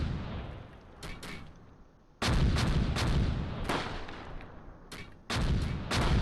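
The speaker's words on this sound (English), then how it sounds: "Let's see if Dwalin can open up with the MG." A machine gun in the Close Combat World War II strategy game, near Caen in Normandy, fires in heavy booming bursts: two sharp cracks, then two sustained loud volleys separated by quieter gaps, with no talking.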